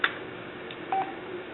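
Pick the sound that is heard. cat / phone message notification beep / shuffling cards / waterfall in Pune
phone message notification beep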